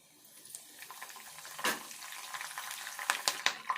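Curry leaves drop into hot tempering oil for a spinach dish, setting off a close, crackling sizzle that builds, with sharp pops and a few spoon clinks against the pan.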